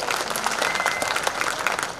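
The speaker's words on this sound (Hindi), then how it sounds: "ताली बजाओ एक बार।" An audience at a devotional Hindi song performance claps in a dense, continuous burst of applause, loud and close throughout, with a faint voice underneath.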